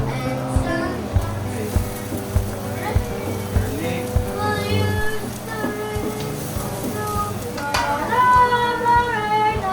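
Beef fries in a hot pan with soy sauce and garlic nearby, sizzling steadily while a utensil stirs and scrapes in repeated rhythmic strokes, close and loud, with people talking over the cooking.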